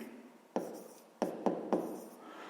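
A hand writes a fraction with a pen on paper during a fifth-grade maths exercise: four short, distinct strokes tap out at uneven intervals over a quiet background.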